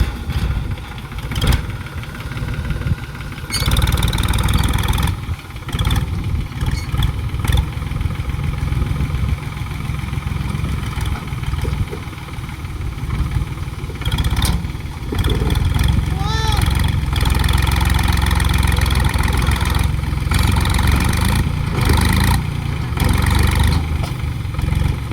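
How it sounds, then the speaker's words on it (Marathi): A farm tractor engine idles and revs unevenly while being driven out, loud and close, with several people talking over it throughout. "आता ट्रॅक्टर खरोखर निघणार."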